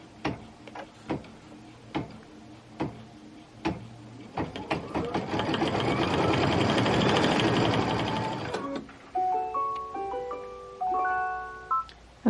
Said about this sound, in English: So I'll be back when this finishes stitching.